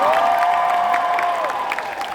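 Audience applause at a Six Flags Fiesta Texas event, brisk clapping and light cheering from a crowd behind a sustained musical tone, fading slightly near the end.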